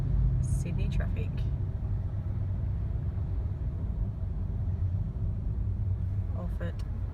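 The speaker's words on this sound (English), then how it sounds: "check out Sydney traffic" Busy Sydney road traffic rumbling as a steady low wash of passing cars, fairly faint and distant, with a few brief higher bursts near the start and end.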